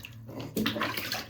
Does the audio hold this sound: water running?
yes